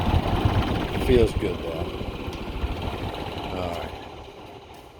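Power generator engine on a 1999 Beaver Patriot Monticello RV, idling with a steady low rumble before fading as it is shut down, someone speaking briefly over it.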